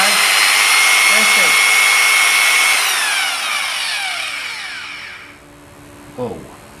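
Krauss P7 G2 1200W rotary polisher whining loudly, its pitch sliding through speed settings as the motor changes, then winding down and fading; a short voice comes near the end.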